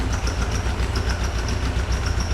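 A 1973 VW Super Beetle engine idling, a steady rhythmic low chugging with regular pulsing beats, close and continuous with no talk.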